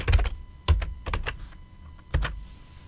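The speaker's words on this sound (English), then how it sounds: "It's prompting me for my password, which I'll type in." Keystrokes on a computer keyboard as a password is entered, a few quick clustered taps in bursts separated by short pauses, close and fairly loud with a steady faint hum underneath.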